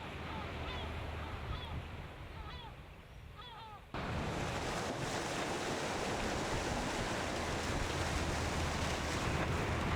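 Waves wash onto an island shore in the Mediterranean, first as a softer surge with faint bird-like calls, then a sudden, steady broadband roar of surf that continues to the end.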